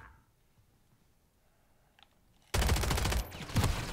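Video game gunfire in Modern Warfare 3, a sudden loud burst of rapid automatic shots after near silence, cutting off briefly before resuming.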